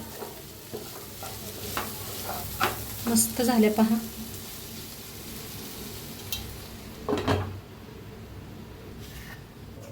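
Vegetable usal curry for misal pav cooks and is stirred in a pan, with soft scraping and sizzling bursts, a louder clatter of stirring near the middle, and brief talk over it.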